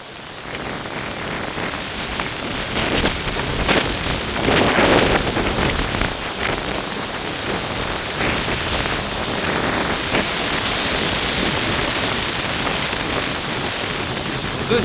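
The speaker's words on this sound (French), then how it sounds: "Il y a encore de sacrés rafales qui arrivent vers chez moi là-bas." Strong storm wind gusts batter trees in a steady, loud broadband roar that swells around the middle and stays intense throughout, with no speech.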